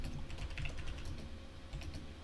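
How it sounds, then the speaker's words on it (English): Steady typing on a computer keyboard, a fast continuous run of light clicking keystrokes up close with no voices. "Because I am legit typing things out."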